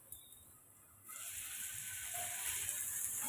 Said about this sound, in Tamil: வெங்காயத்துக்கும் தக்காளியும் சேர்த்து நம்ம வதக்கி விட்டு எடுத்துக்கோங்க